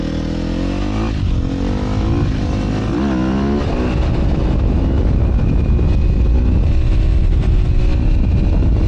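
A Sherco 300 dirt bike converted to supermoto, with no clutch needed, revs up close and loud, its engine pitch climbing and dropping in quick surges before settling into a hard, sustained drone.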